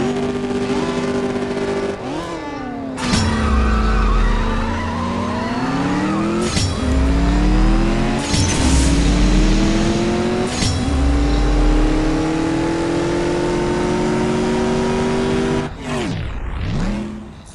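A Mustang in the CSR Racing 2 drag-racing game revs loudly, then surges through a rapid run of gear shifts, each marked by a sharp drop and climb in engine pitch. Tire squeal comes through under the engine, and it winds down near the end.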